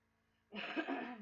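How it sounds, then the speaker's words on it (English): A single throat clearing, close and fairly loud, starting abruptly after a moment of near silence and rasping for over half a second. "I can't seem to clear my throat"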